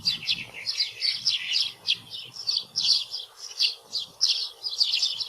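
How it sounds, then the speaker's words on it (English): A sparrow gives a rapid, continuous series of thin, high chirps and chip notes, fairly close and moderately loud, with a faint low background rumble. "it's just a series of chirps and chip notes"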